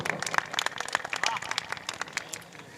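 Audience at an Urdu mushaira poetry gathering in Madanpura, Mau, clapping in a crowd, a burst of fairly close applause that tapers toward the end, with some voices mixed in.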